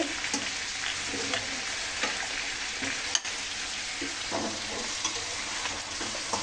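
Biryani ingredients sizzle steadily in a pan while a spoon stirs them, with soft scraping strokes every second or so under a continuous frying hiss and one sharp knock midway.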